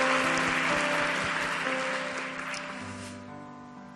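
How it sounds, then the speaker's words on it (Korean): A church congregation claps steadily together over sustained organ-like music tones during a Korean worship service, the applause gradually tapering toward the end. "우리 다시 한번 하나님께 영광의 박수 올려드리겠습니다."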